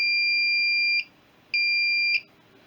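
A homemade motorcycle points static timing tester's buzzer sounds three times, a steady electronic tone in sustained bursts with short gaps, close and loud, no talking.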